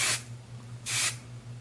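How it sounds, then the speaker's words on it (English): Two short, soft hissing bursts of Kevin Murphy hair spray, separated by a pause, sound close by over a low background hum. "Go ahead and spray that through."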